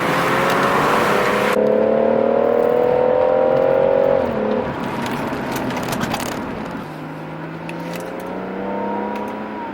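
A BMW M140i lowered on Eibach springs is driven hard through corners, its engine whirring and rising in pitch, dropping off, then building again, loud and close throughout with no talk.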